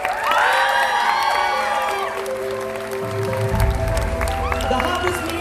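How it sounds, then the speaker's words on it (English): At a cosplay masquerade during the MCM Manchester 2019 comic convention, a crowd cheers with high whoops and shouts over a bed of clapping, rising loudly at the start and swelling again near the end. "Big round of applause."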